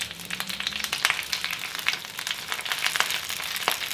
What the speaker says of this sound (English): I'm just sauteing it. Nothing fancy.